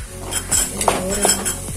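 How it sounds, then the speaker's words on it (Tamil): Three eggs with salt being beaten in a bowl, a close, clinking utensil striking and scraping the bowl in a quick uneven rhythm. "மூணு முட்டையில கொஞ்சோண்டு சால்ட் போட்டு நல்லா பீட் பண்ணி எடுத்துக்கணும்"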